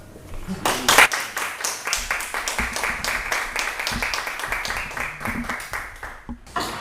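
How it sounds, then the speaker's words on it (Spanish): A small audience claps together after a presentation. The applause is dense and steady, runs for about six seconds, then fades out near the end. "le damos un aplauso."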